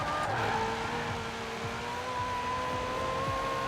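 Maserati in the racing game Forza Horizon 4, its engine droning at a steady rising pitch while the tires squeal and skid in repeated bursts, loud and close with no talk.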